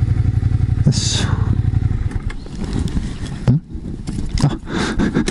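Motorcycle being pushed and maneuvered by hand into a parking spot at a park entrance, with scraping, shuffling tire and footstep noises, low idle-like rumble early on, and brief clunks; a voice grunts with effort.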